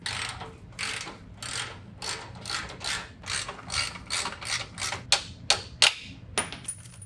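A ratchet wrench clicks rapidly in repeated bursts as it is turned back and forth, close up, while removing the catalytic converter from a 2018 Chevy Camaro, ending with a few sharper clacks and a faint ring.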